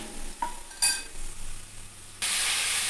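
Turmeric being stirred into potatoes in a pan, with a few soft utensil scrapes and a faint sizzle that swells into a loud, steady hiss near the end; no talking.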